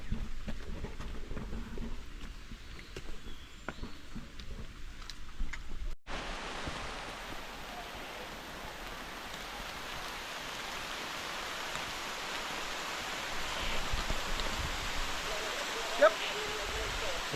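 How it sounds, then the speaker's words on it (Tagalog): Rain falls steadily along a rocky mountain hiking trail on Mt. Pico de Loro, a dense hiss that fills the air after a sudden cut, with a faint voice near the start. "Yun na, umuulan na. It's raining."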